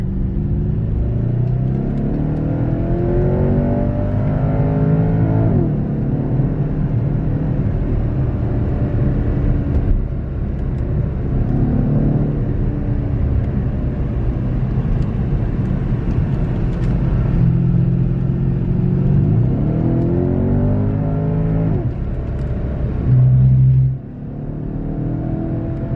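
A Porsche Panamera engine hums and rumbles continuously while driving, rising and falling as it accelerates and eases off through corners, heard from inside the cabin.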